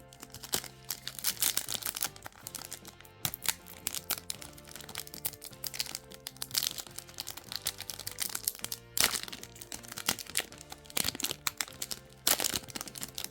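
A Mega Inferno X Pokémon card booster pack is opened close up. Its foil wrapper crinkles, crackles and tears in a dense, continuous stream of sharp rustles, with no speech.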